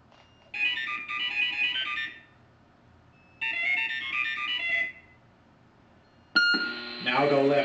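A 1980s Omnibot toy robot gives off electronic sound effects: two bursts of warbling, ringtone-like beeps separated by pauses, then a different tonal electronic sound near the end, close and clear.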